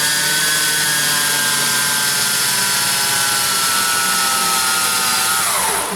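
A high-pitched power drill whines steadily and loudly close by while boring through the plastic of a fridge freezer, its pitch dropping as it slows near the end.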